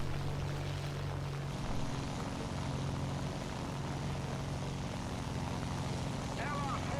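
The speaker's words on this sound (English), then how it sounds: "I thought I heard an enemy plane come up" An enemy I-15 propeller plane drones steadily in a video game, a low continuous engine hum with a faint rising tone, heard alongside the player's own aircraft noise.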